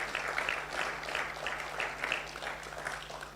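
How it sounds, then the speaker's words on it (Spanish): A church congregation claps steadily during a worship service, a dense, sustained wash of hands with gentle rhythmic swells and a faint background hum. "¿Cuántos le dan aplauso al Señor?"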